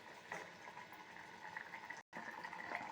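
Vanjaram dried fish thokku gravy simmering in a pan, a quiet steady bubbling with soft liquid churning throughout, briefly dropping out near the end before resuming.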